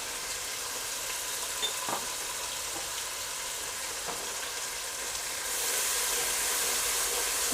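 Daal chana with salt, black pepper and garam masala fries in a pan with a steady, dense sizzle, close and continuous, swelling louder toward the end, with a few faint taps and no voices.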